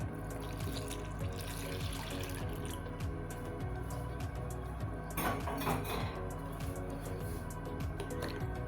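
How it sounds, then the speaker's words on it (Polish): Warm milk, 150 ml, poured onto yeast in a bowl while making cheese buns, a steady close liquid stream running for several seconds alone. "I teraz do drożdży daję 150 ml mleka ciepłego"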